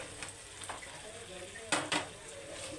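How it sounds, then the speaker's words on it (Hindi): Afghani malai seekh kebabs stirred into frying masala in a pan, a steady sizzle broken by a few scraping spoon strokes, two sharper ones close together near the end; no talking. "अब इसे अच्छे से मसाले में हम मिक्स कर देंगे इस तरीके से"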